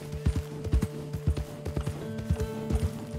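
Steady clip-clopping of a horse's hooves in Red Dead Online, a regular walking rhythm of close, clear hoof strikes over a soft sustained musical hum.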